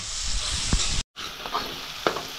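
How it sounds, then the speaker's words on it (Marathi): Tempering for moong dal sizzles and hisses in hot oil, a soft steady frying crackle with a couple of sharp pops and stirring clinks, briefly cut out midway. "तर मस्तपैकी आता फोडणी बसायला लागली वरणाला"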